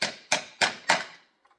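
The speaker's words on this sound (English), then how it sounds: "I give it a little encouragement with my little flowery hammer here" Four crisp metallic taps from a small hammer with a flowery pattern seat a part flush into place, each strike evenly spaced and close, ringing briefly before fading to quiet.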